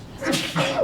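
A single close sneeze bursts out in a quiet meeting room, brief and sharp with a breathy two-part release.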